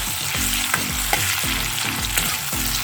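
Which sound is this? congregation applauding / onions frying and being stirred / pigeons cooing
onions frying and being stirred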